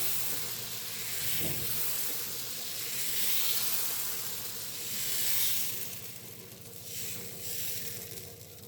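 Water is sprinkled onto a hot pan and sizzles with a loud, steady, close hiss that swells and fades in waves, and no one talks.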